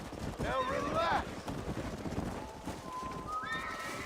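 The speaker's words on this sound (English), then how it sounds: "don't let those horses out of your sight" Horses in Red Dead Redemption, a loud near whinny followed by a second fainter neigh, with hoof clip-clops and wind running underneath.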